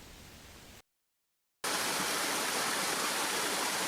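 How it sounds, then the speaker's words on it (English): Water pours down into a pond in a steady, dense rush of noise. It cuts out briefly to silence, then comes back louder and fuller, roaring continuously. "Some water has started to pour down now all the way"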